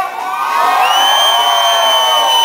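A crowd shouts and cheers loudly together, a dense wash of voices with rising whoops sustained for a couple of seconds, close and energetic with no single voice standing out.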